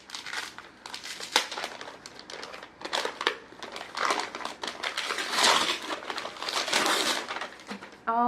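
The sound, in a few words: unwrapping a gift-wrapped board book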